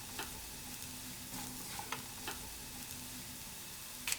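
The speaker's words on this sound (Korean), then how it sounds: "불을 끄고 대파에 초록잎을 넣고 섞어줍니다." Green onion leaves stirred into egg fried rice in a pan with the heat off: faint crackle and a few soft scrapes and taps of a spatula, quiet and close, no voices.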